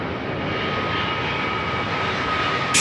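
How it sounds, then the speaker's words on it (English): A Boeing 787 jet airliner approaching to land over Sydney Airport gives a steady, broad roar overhead, moderately loud and unbroken for the whole stretch, with no talk. "So the 787 going to be coming in straight over our heads for a touchdown on runway 16 left."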